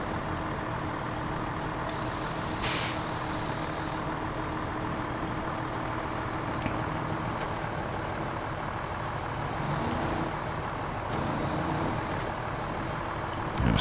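Heavy loaded truck in SnowRunner crawling over rough, rocky ground, a steady low engine drone and rumble continuing throughout with a brief sharp hiss near the start and slight swells later.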